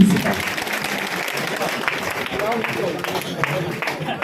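An audience at a network marketing seminar clapping together as they sit back down, a steady crowd patter of hands with voices murmuring beneath it.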